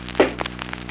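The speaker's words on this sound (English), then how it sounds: "Now the same panel with Sand Mortex insulation sounds like this." A mallet knocks on a Nash Lafayette car body panel lined with Sand Mortex insulation, giving a single short, dull, deadened thud, then only soft scattered ticks.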